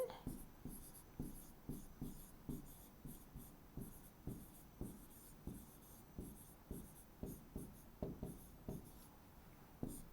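A pen scratches out an essay on paper, close and quiet, in a steady series of short strokes repeated over and over with a regular rhythm.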